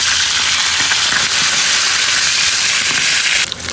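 Fish frying in hot cooking oil in a home kitchen, a loud, steady sizzle with crackling spatter that runs continuously, easing slightly near the end.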